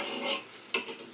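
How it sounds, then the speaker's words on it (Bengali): Eggs with capsicum frying in a pan, a close, steady sizzle with a faint scrape or stir partway through. "এইভাবে সুন্দর ডিম ভাজবেন"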